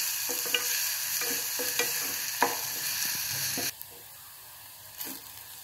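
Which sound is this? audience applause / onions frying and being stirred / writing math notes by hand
onions frying and being stirred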